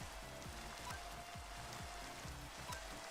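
Rain conjured by the Rain Dance move in the Cobbleverse Minecraft-style Pokémon game: a steady, even hiss of falling rain with soft patter, under low repeating game music notes.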